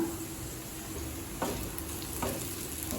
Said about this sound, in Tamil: வெங்காயம் நல்லாவே வதங்கிடுச்சுங்க